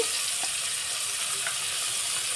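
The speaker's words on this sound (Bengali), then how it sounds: "তেলটা আমার খুব সুন্দর গরম হয়ে গিয়েছে এবারে আমি একে একে এই ম্যারিনেট করা মাছগুলো একটু ভেজে নেব" Marinated silver carp pieces fry in hot oil with a steady, even hiss and sizzle, heard close and unbroken with a few faint crackles and no talking.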